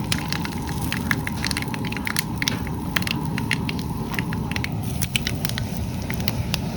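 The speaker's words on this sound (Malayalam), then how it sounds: "കടുകും കുറച്ച് കറിവേപ്പിലയും കൂടി ഇട്ടു." Mustard seeds and curry leaves crackling while tempering in hot oil, a dense, continuous sizzle with frequent sharp pops and crackles, fairly loud and close.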